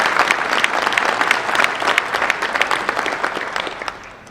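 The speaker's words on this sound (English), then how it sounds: "Let's give a nice round of applause for our sponsors of our event." An audience at a Kingsport chamber of commerce holiday breakfast applauds the event sponsors: a dense, steady wash of many hands clapping close by, sustained for several seconds without speech.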